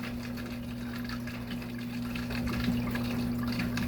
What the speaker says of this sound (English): it's creating a nice current and flow.